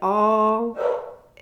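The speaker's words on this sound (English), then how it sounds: "He's barking away downstairs" A dog named Chappie barking from downstairs: one sustained, tonal bark-howl followed by a shorter rough yelp and a faint start of another, fairly clear over a quiet room.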